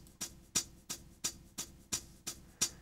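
Drum sample originally at 90 BPM, time-stretched in Cubase to 175 BPM, playing as a crisp breakbeat loop with sharp snare-like hits at a steady, fast tempo, fairly quiet with a low hum beneath.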